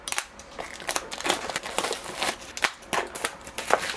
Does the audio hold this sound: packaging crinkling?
yes